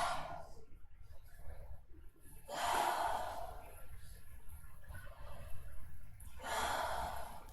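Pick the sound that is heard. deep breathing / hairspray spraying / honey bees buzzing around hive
deep breathing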